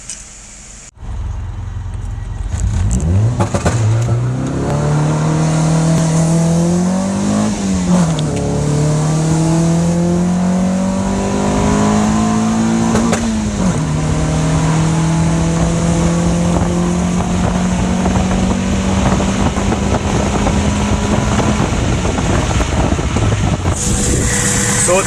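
Naturally aspirated Honda D16 engine pulling hard on a quarter-mile drag pass, revs climbing steeply through several gear changes with brief dips between shifts, loud and sustained close to the car.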